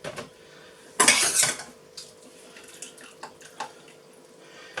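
Broccoli scooped into the same bowl the fish was drained in for a homemade fish pie: a loud burst of clattering utensil and bowl sounds with wet splashing, followed by scattered lighter clinks and drips.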